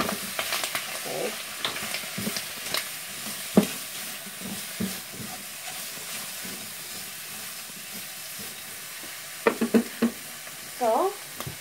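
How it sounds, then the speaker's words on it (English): Bread for a Reuben sandwich with corned beef and Munster cheese sizzles in a pan, a steady frying hiss broken by scattered scrapes and clicks, with brief faint voice near the end. "we're going to take a spatula and check the process of the bread toasting"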